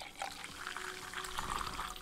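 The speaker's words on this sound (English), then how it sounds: "let me pour a bunch more of these" Liquid poured while preparing food in a tavern management game, a soft, steady trickling pour with bubbly splashing that runs for about two seconds at low level, with no one speaking.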